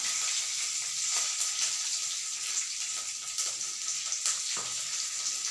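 Curry leaves sizzle steadily in hot oil, a loud, dense crackle with brief sharper pops, during tempering for dahi bhalle.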